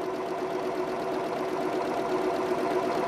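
A Janome sewing machine stitching a buttonhole hums with a steady, close mechanical whir and fine rapid needle rhythm, continuous and even without pause.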